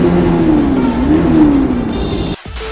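A Bajaj Pulsar NS200 motorcycle revs inside a road tunnel, its engine note rising and falling loudly and close, then cutting off abruptly near the end.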